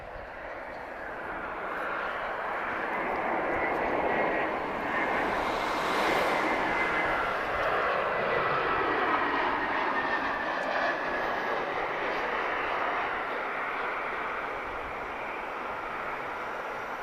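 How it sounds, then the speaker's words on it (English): An EasyJet Airbus A320 arriving from Madrid at Lisbon Airport produces a steady, broad jet roar that swells and holds at a fairly constant loudness for the whole stretch, heard at a distance with no talk over it. "This is an A320 from EasyJet."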